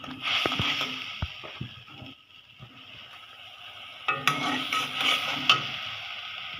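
Spice paste for a red lentil dish with Malabar spinach seeds sizzles softly in a pan as a spoon stirs and scrapes it, with a few sharp clinks against the pan and a brief louder burst of frying.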